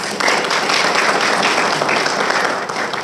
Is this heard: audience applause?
yes